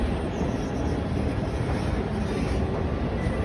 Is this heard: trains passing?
yes